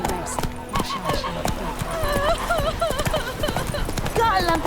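Horse hooves clip-clop steadily at a trot in the video game Witcher 3, a close rhythmic clatter under a voice talking and game music.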